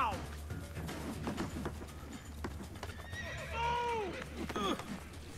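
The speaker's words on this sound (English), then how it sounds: "Oh, horsey to the rescue." Video game horse in Assassin's Creed 2 clip-clopping at a gallop and letting out a shrill neigh near the end, heard over a low rumbling game soundtrack with brief voice sounds.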